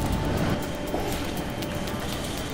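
A train rumbles steadily in the video game Ghost Recon Future Soldier, a dense, loud rolling roar with faint rhythmic clatter and no voices over it.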